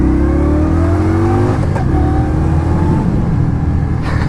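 The 69 cubic inch, 1,130 cc V-twin of a 2016 Indian Scout cruiser revs and pulls loudly up through the gears, with a short gear change in the middle and steady engine roar throughout.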